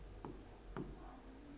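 Chalk or marker scratches on a board during a Class 10 maths lesson, two short, quiet strokes in an otherwise hushed room.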